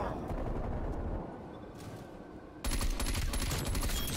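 Rapid gunfire in Call of Duty: Black Ops Cold War, dense bursts of shots that drop back briefly and then return louder and sharper, close and continuous with no voices.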